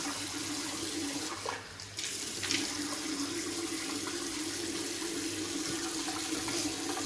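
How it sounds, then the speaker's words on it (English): A tap runs steadily into a sink while a face is wetted before shaving, a continuous close rushing of water with a brief dip and splash of hands partway through, no talking. "Get the face wet."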